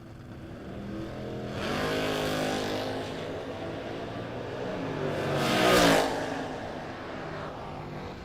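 A 4th gen Camaro and a 2nd gen car launch in a no-box drag race at a shootout, with loud engines roaring and revving hard. The sound builds, then swells to a rushing peak as the cars pass, then fades into a steady drone.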